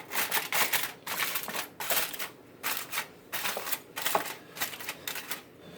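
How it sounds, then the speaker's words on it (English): Aluminum foil, shiny side up, is crinkled and pressed into a bowl. The bursts of crackling and rustling come up close, one after another, with short pauses between them, and no one talks. "we line the bowl with the aluminum foil"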